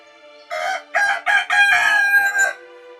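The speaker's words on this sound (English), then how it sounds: "and a rooster crowed." A rooster crows loudly and close by, a single drawn-out cock-a-doodle-doo broken into several rising and sustained bursts, heard alone without speech.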